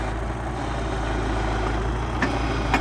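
A YuMZ tractor loading manure with a large front bucket runs with a steady, close, low diesel rumble, and two brief sharp knocks near the end.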